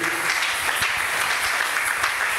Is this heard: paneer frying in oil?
no